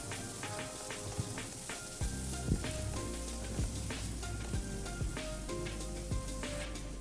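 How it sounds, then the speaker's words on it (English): Finely chopped onion sizzles over a medium flame in a karahi, a soft steady frying crackle with occasional stirring clinks and scrapes, quiet and close with no talking. "On medium flame saute the onions until they turn golden brown in color"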